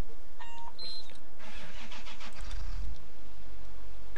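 A vehicle at a quarry in rural Belgium starts up after a vehicle-chime sequence, with a cranking turnover that catches into a low rumbling idle, close and fairly loud, with no talk.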